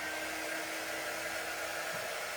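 A hair dryer blows steadily on a shirt transfer, a constant whooshing roar held close and fairly quiet throughout, with no talking.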